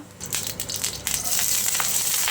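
Cumin seeds sizzle in a few spoonfuls of hot oil or ghee, a loud, close, steady frying hiss with crackly bursts that builds and holds for a couple of seconds, no talk.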